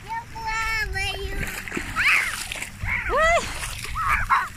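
A young child splashes in shallow, clear sea water, with several close splashes between bursts of excited child chatter.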